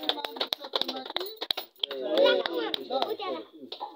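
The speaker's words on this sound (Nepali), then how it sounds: "ल ताली बजाउँ है सबैजनाले" A group claps in a quick burst of sharp, irregular hand claps at a Nepali baby naming ceremony, nearby and fairly loud. Children's and adults' voices mix in and grow louder as the clapping thins out.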